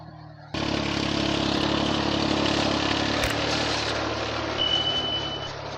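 A mini tractor's engine runs steadily in a field of tall four-foot cotton plants, a loud close drone that starts abruptly and holds throughout.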